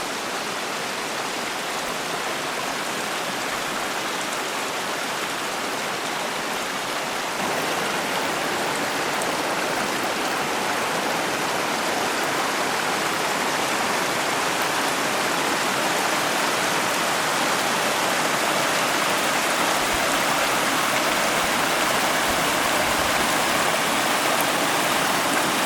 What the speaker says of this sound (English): It's a cute little stream.